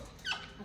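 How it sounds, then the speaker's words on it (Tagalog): A single short, faint dog bark or yelp in La Trinidad, Baguio City, heard at a distance against a quiet background. "grabe yung mga aso"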